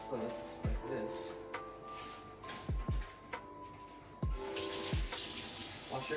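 Tap water runs into a sink during handwashing while mackerel is prepared in a kitchen, a steady close hiss broken by several sharp knocks and clunks of hands and objects, rushing louder near the end.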